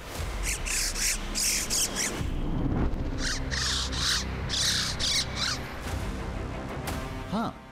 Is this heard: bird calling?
yes